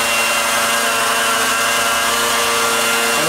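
A high-speed electric floor burnisher polishing marble, a steady loud whirring drone that holds without a break, close by and with no voices.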